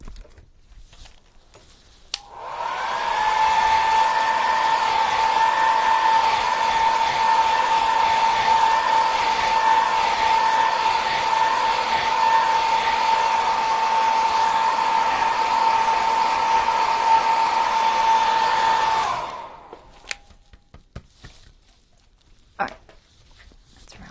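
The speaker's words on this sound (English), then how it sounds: "I'm gonna hit that with the blow dryer" A handheld blow dryer runs in one continuous loud whine for about seventeen seconds while drying paint on a journal page, then cuts off, leaving faint taps and handling noises.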